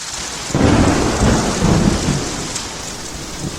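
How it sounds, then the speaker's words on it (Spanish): Heavy rain pours steadily on a city avenue while loud thunder rumbles in, swelling from about half a second and rolling on, the downpour continuing as a dense hiss throughout with no voices. "El sirviente escuchaba abstraído el ruido de la lluvia sobre la avenida Suhaku."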